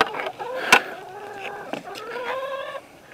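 A rooster clucks repeatedly at close range, with a sharp squawk near the start and rising, drawn-out calls toward the end.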